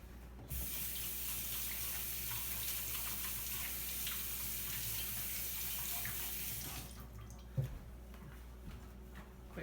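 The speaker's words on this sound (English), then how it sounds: "Quick rinse of my fingers." Tap water runs steadily into a kitchen sink while fingers are rinsed under the stream for several seconds, then the flow cuts off, leaving a quieter room with a couple of small knocks.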